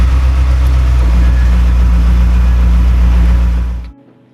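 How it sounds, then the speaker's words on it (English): A Ferrari F40 supercar engine idles in a steady, loud, low rumble for nearly four seconds, then cuts off abruptly into near silence. "the sound of the F40 is unique"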